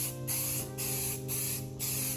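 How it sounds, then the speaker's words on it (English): A spray paint can hisses in about four bursts, evenly spaced with brief pauses between them, while paint is applied to metal armor. The sound is close and steady, with no voices. "you start moving, you spray, and then you let go, but you continue moving through the whole swipe"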